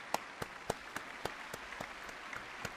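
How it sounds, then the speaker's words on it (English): Faint, evenly spaced claps in a video game ring out one at a time in a slow, steady rhythm, like a lone, unhurried round of applause. "Applause."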